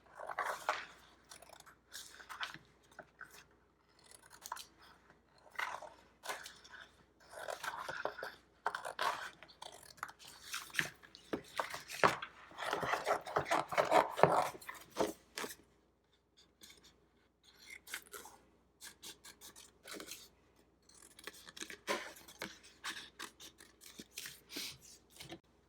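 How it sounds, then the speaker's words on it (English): Scissors snipping shapes into small mosaic pieces for an eggshell, alcohol ink and resin tray craft, with irregular clusters of close, crisp cuts and short pauses, no talking. "I'm just going to start randomly cutting my shapes into little mosaic pieces."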